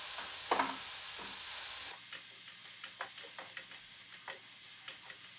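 Chili powder (gochugaru) stir-fried in a pan for mapo tofu, a quiet close sizzle with a sharp clatter at the start, then a low steady hiss broken by light scraping strokes of a spatula.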